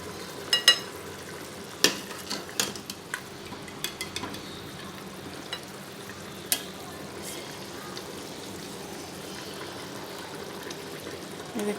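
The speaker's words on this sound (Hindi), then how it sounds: "तो मैं इसको थोड़ा सा भून के ना इसका पानी थोड़ा सा ड्राई करती हूँ" Spicy beef bhuna gosht fries in a pan on a lowered flame, a soft steady sizzle with occasional scraping clicks from stirring, fairly quiet and without talking.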